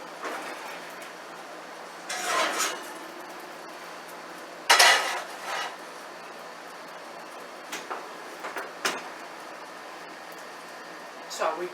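A heavy cast iron pan being pulled out of a home oven, with a few separate metallic clanks and scrapes against the rack and a short quiet gap between them.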